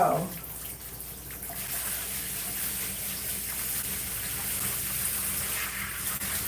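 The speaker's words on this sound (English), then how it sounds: "I'm gonna cut off this water for 1 second and try to fix this" Water runs steadily from a tap during hair washing, a constant soft gush with a brief splash at the start and no talk.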